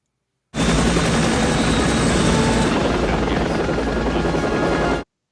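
A helicopter in the action film Under Siege 2 roars loudly and steadily with dense rotor and engine noise. It starts and stops abruptly and is heard alone, with no talk.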